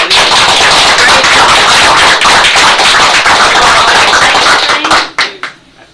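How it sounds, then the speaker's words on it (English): Dense applause from attendees at a county fiscal court meeting, loud and continuous crowd clapping that tapers off in a few scattered final claps. "So another round of applause."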